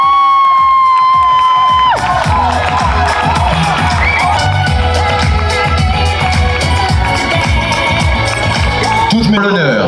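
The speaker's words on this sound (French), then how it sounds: "Je vous demande un tonnerre d'applaudissements pour les coachs" A large crowd at a French championship medal ceremony cheers and applauds the coaches loudly and continuously, with whoops and shouts in a dense roar while an announcer's voice carries over it.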